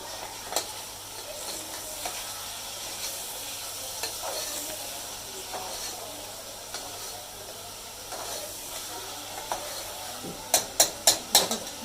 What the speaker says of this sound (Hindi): अदरक लहसुन भून रहा है